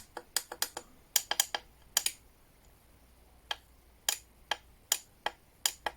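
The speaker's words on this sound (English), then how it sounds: "I hear a clicking inside of it when I press this" Sharp, dry mechanical clicks sound close by from inside a portable spot welder as it is pressed, some alone and some in quick bursts of two to four, spread unevenly over a quiet background.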